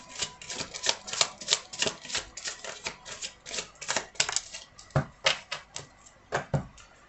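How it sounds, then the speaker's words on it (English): Tarot cards are pulled and shuffled in quick, crisp riffling bursts, with close, papery flicks and snaps repeating rapidly and unevenly, with no talk over them. "I'm going to pull a couple more cards."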